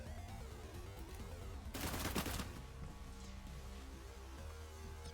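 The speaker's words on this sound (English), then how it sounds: "she hears gunfire" A burst of rapid gunfire crackles briefly in the middle of the video game Cyber Knights: Flashpoint, a quick volley of shots over a steady low background hum.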